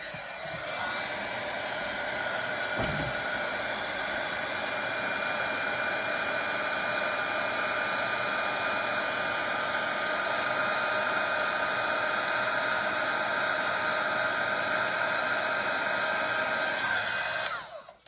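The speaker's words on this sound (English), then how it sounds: "my new heat tool is less noisy than my previous one" A steady, loud blowing roar of a heat gun runs continuously for about seventeen seconds, then cuts off at the end.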